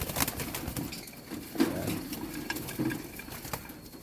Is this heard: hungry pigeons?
yes